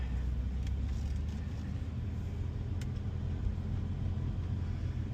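A Porsche sports car drives along, heard from inside as a low, steady road and engine rumble at a moderate, even level with no speech.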